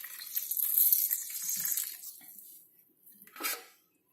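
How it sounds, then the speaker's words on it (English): Bread dipped into water and squeezed out for potato and vermicelli cutlets, giving faint close splashing and dripping that fades, with a brief wet squelch near the end. "Squeeze all the water by dipping the bread into the water and then just squeeze out all the water."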